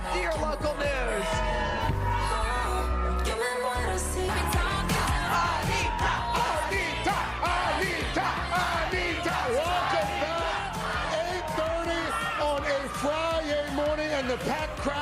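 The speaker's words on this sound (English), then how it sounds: "And the packed crowd is chanting." A packed concert crowd at an outdoor plaza show in New York cheers, whoops and chants loudly and continuously, a dense wall of many voices with rhythmic shouted chanting throughout.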